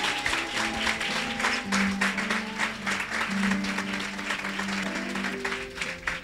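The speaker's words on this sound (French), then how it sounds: "Acclame très fort le Saint-Esprit." A church congregation applauds during a worship service, a dense, even roll of clapping under sustained organ-like tones and a voice calling out over it.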